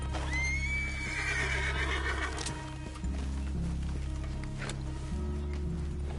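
Horses in the video game Red Dead Redemption 2 let out a loud neigh, followed by hoof clip-clops and stepping over a steady background ambience.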